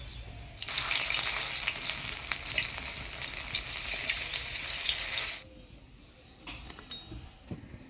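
Flowers and coriander-leaf fritters fry in hot oil with a loud, dense sizzle for about five seconds. The sizzle then drops away, leaving quieter clinks and stirring.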